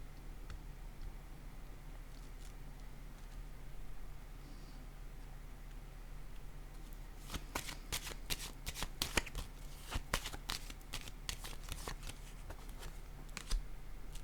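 Quiet room tone, then a run of crisp, rapid paper snaps and flicks as tarot cards are handled and set down close by.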